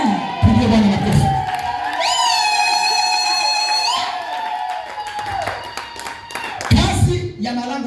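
Church congregation clapping for the Lord in a brief burst of loud, mixed clapping and voices, then a long wavering sustained tone, then another round of clapping and cheering near the end.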